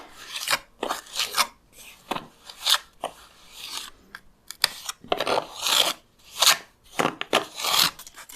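Lime mortar being pressed and smoothed into a groove cut in a concrete wall with a size 8 filling knife: a run of short, dry scraping and rasping strokes in irregular bursts, close and fairly quiet, with no talking.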